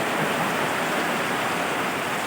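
Steady, dense rain pours on a village day, a continuous broadband wash of hiss and patter with no pauses, close and even throughout without any voices.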